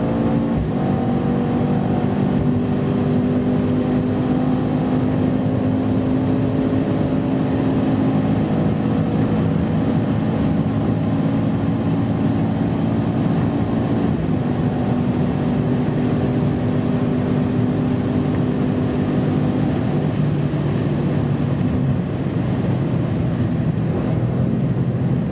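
A 2018 Mercedes-AMG C 63 S Coupé accelerates hard at full throttle in Sport Plus mode, its engine note rising steadily through the gears with a brief shift dip, loud and continuous from inside the car without talk.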